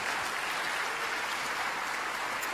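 Brief, steady clapping from a convention panel audience at PAX Aus, a dense wash of applause lasting a couple of seconds.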